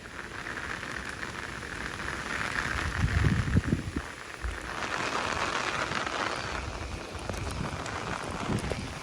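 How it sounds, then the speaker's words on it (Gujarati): Heavy monsoon rain pours down in Devbhumi Dwarka near an overflowing river, a dense, constant hiss of drops that swells in places, with gusts of wind buffeting the microphone and no speech. "ધોધમાર વરસાદ"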